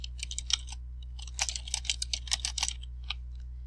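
Quick, uneven typing on a computer keyboard while entering a book title, with dense clusters of crisp, close keystrokes and a few short pauses over a low steady hum.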